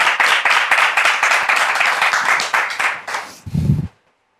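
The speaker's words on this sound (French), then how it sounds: "Est-ce qu'on peut les encourager avec des applaudissements?" Warm applause from a church congregation during a ceremony, a dense burst of many hands clapping that fades after about three seconds before a short low thump and silence.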